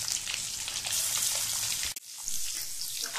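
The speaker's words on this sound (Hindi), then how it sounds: "तो आप देख सकते हैं एक साइड से अपना अंडा जो है फ्राई होना शुरू कर दिया है" An egg frying in hot oil in a pan, giving a steady, fairly loud crackling sizzle that drops out briefly near the middle before resuming.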